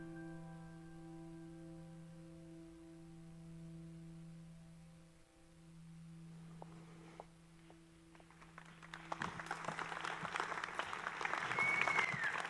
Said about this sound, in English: Yes, a big applause to this work.